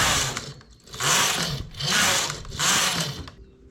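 A knitting machine works a mini sleeve, its carriage sweeping across the needle bed in three loud, steady rasping passes about a second apart, with short pauses between strokes and no talking.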